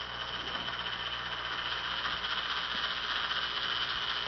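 Small Arduino-controlled motors run continuously, two unsynchronized units turning together with a steady mechanical hum and faint rattle, moderately close with no talking.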